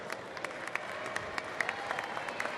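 Spectators at a Mid Penn girls' basketball final between Gettysburg and Trinity clap and cheer steadily, a dense wash of applause with sharper individual claps popping through, moderately distant in a gym.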